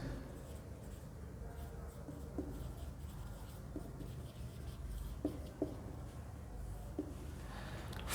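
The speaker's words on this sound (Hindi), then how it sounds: "मैं यहाँ पे राइट करता हूँ।" Marker or chalk writing on a board during a computer science lecture, soft scratchy strokes with a few light taps over a quiet room hum.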